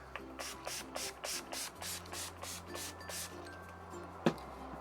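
Repeated short hissing bursts of a makeup setting spray misting onto a face, about ten quick pumps in an irregular rhythm, close and fairly soft, ending with a small click.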